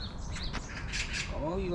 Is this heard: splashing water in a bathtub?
no